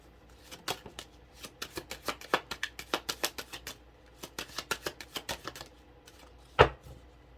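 An oracle card deck, the Rebel deck, being shuffled: a quick run of crisp riffling card flicks and taps in uneven bursts, close and fairly quiet, ending in one louder snap, with no talking.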